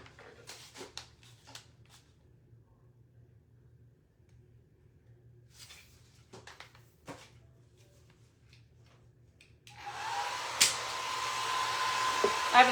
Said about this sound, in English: Let me dry this, and then let me glue it, because I think it's still wet